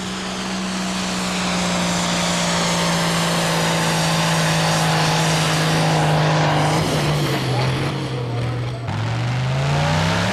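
A pulling tractor at a 1994 tractor pulling event drags a weight transfer sledge, its engine a loud, steady roar that holds for several seconds, then dips and climbs in pitch near the end.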